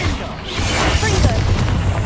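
A Confringo spell blast goes off in Hogwarts Legacy during a troll fight: a sustained roaring burst with crackling, whooshing texture and low rumble, loud and close, lasting about two seconds.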